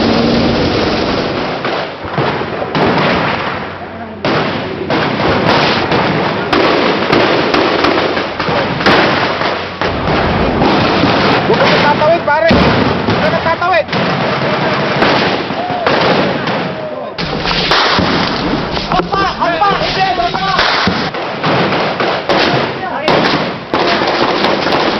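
Rapid gunfire and sharp cracks of bullets in a firefight in Lamitan, Basilan, loud and dense with bursts of shots and ricochets continuing almost without pause, with voices mixed underneath.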